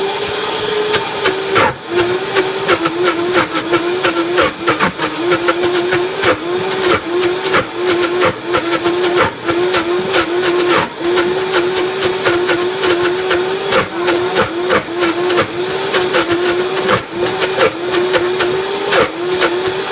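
Food processor blending almonds into creamy almond butter, a steady loud motor whir running continuously with a hissing, grinding texture and no talking.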